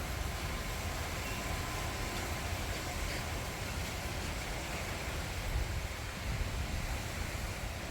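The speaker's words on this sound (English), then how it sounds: "Here comes another good gust." Strong hurricane wind from Hurricane Helene in Florida rushes as a broad, steady roar, swelling slightly in a gust toward the end, heard from a distance and fairly faint.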